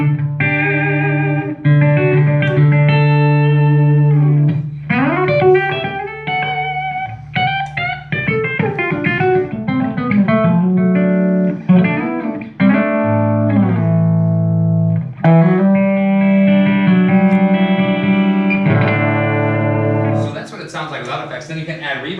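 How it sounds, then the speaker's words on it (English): A clean electric guitar plays through an amp with no reverb, a steady run of sustained chords and single notes, close and fairly loud for about twenty seconds. "if I turn the reverb off, you'll hear literally just the guitar through the amp"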